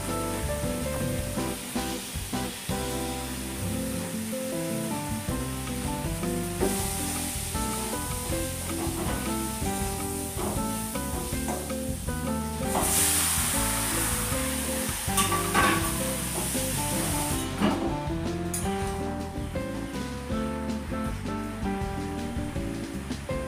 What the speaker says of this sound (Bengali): তো কড়াইতে রসুন পেঁয়াজ দিয়ে দিয়েছি, তেল দিয়ে দিয়েছি, আর এবার মশলাগুলো এক একে দিয়ে দিচ্ছি।